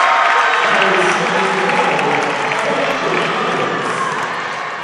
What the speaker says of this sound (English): a very good and very loud crowd on hand for you today in the championships